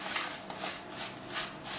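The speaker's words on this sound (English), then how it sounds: "Okay, again, we're just going to mix all of that in." Oats, mashed banana and finely chopped walnuts are stirred together in a bowl, giving a soft, steady rubbing and scraping that swells and fades in slow passes, close and fairly quiet with no talking.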